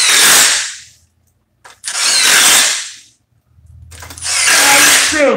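Impact driver driving screws in a DeWalt versus Milwaukee comparison test, three loud bursts of whirring and hammering a second or so each, separated by brief pauses, close to the tool with no talking.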